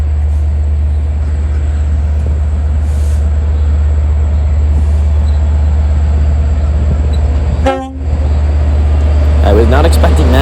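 A Long Island Rail Road train set pulls away into the rail yard with a steady, loud low rumble that runs throughout and dips briefly near the end.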